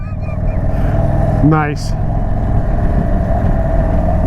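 An Indian Super Chief motorcycle ridden in sport mode gives a steady, close engine drone that holds its level throughout, and a voice briefly speaks over it.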